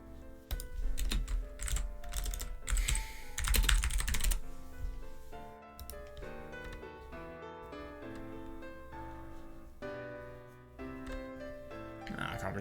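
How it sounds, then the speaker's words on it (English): Fast typing on a computer keyboard, a dense run of crisp key clicks in uneven bursts that keeps going at a steady, moderate loudness with no talk over it. "I hate typing on this keyboard so much."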